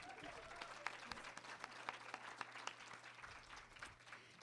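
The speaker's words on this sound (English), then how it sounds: "I'd just like to give them a round of applause for that." Audience applause closes the final presentations of a nanoscience summer institute, a steady patter of many hands clapping at moderate distance, fairly quiet and uniform throughout with a few sharper individual claps standing out.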